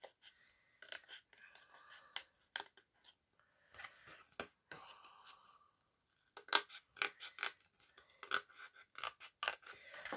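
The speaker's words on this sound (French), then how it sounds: "Là, je peux la découper au ciseau." Scissors cut through a cardboard template, a close, quiet series of crisp snips and scraping slices in irregular bursts, with faint mechanical handling noises between the cuts.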